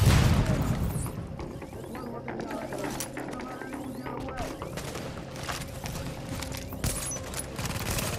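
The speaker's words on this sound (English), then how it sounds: "Having too much fun shooting them at the" Gunfire in the video game The Division, with scattered sharp shots and bursts over a busy background of game effects, at moderate level.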